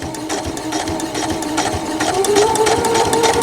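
A sewing machine stitching a scrappy quilt block hums in a continuous, rapid close-up whir, its needle strokes pulsing evenly and the motor pitch rising slightly near the end.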